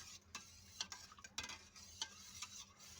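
Buttermilk from two packets stirred with sugar and ice for cold mattha: a spoon swirls the liquid while ice cubes clink and knock against the vessel in an irregular run of bright taps, close and fairly quiet, with no talking.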